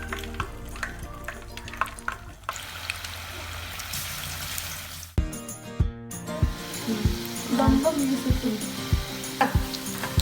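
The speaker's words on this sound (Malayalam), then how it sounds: "ഇനി നമുക്ക് ഡീപ് ഫ്രൈ ചെയ്യാം." Potato wedges deep fry in hot oil, a loud close sizzle and bubbling that surges as pieces are stirred and lowered in, with faint clinks of a utensil throughout.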